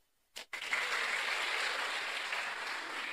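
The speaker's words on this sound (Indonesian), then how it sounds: "Tepuk tangan" Church congregation applauding during a sermon in Indonesia, a sudden burst of clapping that starts after a brief click and holds steady, moderately distant, with no talk.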